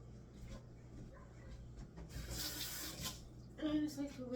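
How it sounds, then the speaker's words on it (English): Tap water runs and splashes in a kitchen sink as peppers for stuffing are rinsed. A steady background stream swells louder midway, then eases, and faint voices may be heard nearby. "I just like to rinse mine out every single time"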